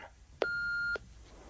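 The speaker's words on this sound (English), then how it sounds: "If you wish to leave a message, please do so after the tone." A single short answering machine beep sounds once, holding a steady pitch for about half a second over faint background hiss.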